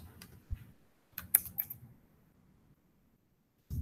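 Sparse, quiet keystrokes on a computer keyboard while entering commands in a terminal, a few scattered clicks and a short cluster of taps separated by pauses.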